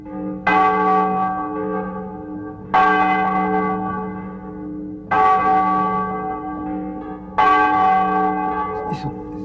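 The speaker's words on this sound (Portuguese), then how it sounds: "de repente todas as igrejas começaram a tocar sino" Church bells ring out across Ouro Preto, four slow resonant strikes each sustaining a rich ringing hum before the next, loud and spacious with no talk.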